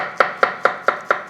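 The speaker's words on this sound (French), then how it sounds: "on va les couper juste en deux et on va" A knife halves mushrooms on a cutting board in six evenly spaced, crisp chops, close and loud, with no talking.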